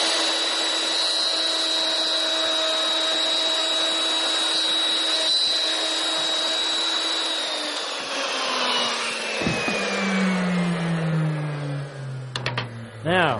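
A loud, steady high-pitched whine of a handheld wood router runs close up, then the pitch drops as it winds down.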